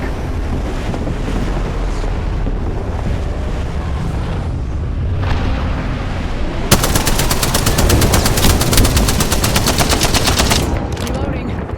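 Gunfire in a military shooter video game, heard as a steady wash of wind-like noise with a burst of rapid automatic fire in the second half, loud and continuous, broken by sharp cracks.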